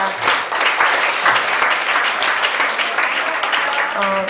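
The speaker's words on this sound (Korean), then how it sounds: "수고해주신 모든 분들께 다시 한번 큰 박수 부탁드립니다" Audience applause closing a Korean policy debate on state coverage of children's hospital bills, a dense steady wash of many hands clapping throughout, loud and sustained with no talk over it.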